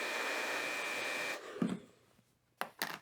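A ceramic ionic hair dryer blows with a steady, loud, broadband whoosh for just over a second, then cuts off, followed by a few faint handling knocks and short bumps.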